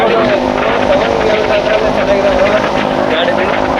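A Yamaha RX 100 motorcycle is ridden, its engine giving a loud, continuous droning roar with rushing wind noise throughout, while a voice talks over it.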